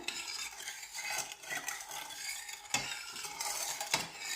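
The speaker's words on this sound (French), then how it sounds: "Je vais mélanger tout ceci et je vais laisser monter à ébullition." Rice pudding mixture with sugar stirred steadily in a pot, a continuous swishing and scraping with faint utensil clinks near the end and no talking.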